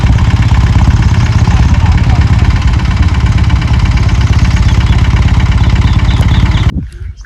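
A loud tractor engine chugs steadily close by in a farm field sown with peanuts for several seconds, then cuts off abruptly.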